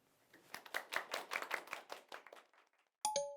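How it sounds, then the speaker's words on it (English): A small group at a debate claps in a loose, uneven patter that thins out and stops, followed by a single bright, ringing chime-like tone. "give them another round of applause"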